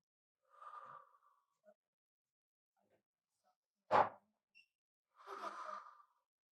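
An audience taking long breaths in a lecture hall: a soft, drawn-out exhale, a sharp louder intake, then another long sighing exhale, all faint with silence between.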